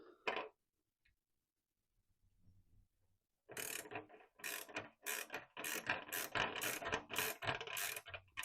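A ratchet slackening bolts on a universal naked screen mount of a Royal Enfield Interceptor 650 motorcycle: a brief click, a pause with faint handling noise, then a close run of rapid ratcheting bursts.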